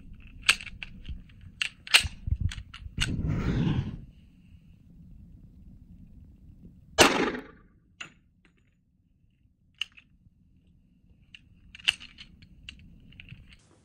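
.45 ACP Gold Dot rounds are fired into a bulletproof vest. Two sharp, loud reports ring out several seconds apart, surrounded by quiet intervals with scattered clicks and handling noises.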